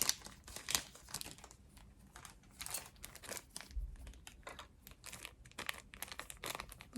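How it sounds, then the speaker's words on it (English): Enamel pen being taken out of crinkly plastic packaging, producing soft, close crackles and rustles in quick irregular bursts, quiet and intimate with no talking. "I'm gonna take it out of the plastic so we can see it better"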